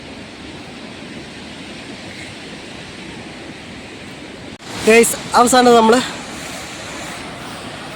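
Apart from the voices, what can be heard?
waterfall with low water flow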